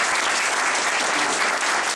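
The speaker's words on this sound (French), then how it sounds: "Je demande tous vos applaudissements pour ces personnes qui font un magnifique" Dense, steady applause from an audience at a prize-giving ceremony for a commercial festival in Comines-Warneton, filling the room at an even level before cutting off sharply near the end.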